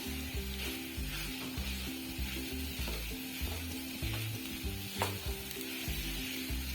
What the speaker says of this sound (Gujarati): ઘી નાખી અને સક્કરિયા નાખીને આને આપણે શેકાવા દેશું.